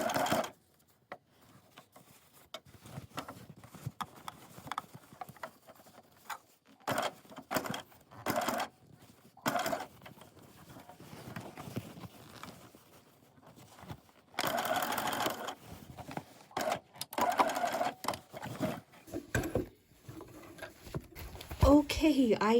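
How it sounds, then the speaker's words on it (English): Home sewing machine top stitching a patchwork pouch made from scrap fabric, running in short bursts and longer stretches separated by pauses, with light handling clicks and rustles in between. "So I did manage to get it top stitched."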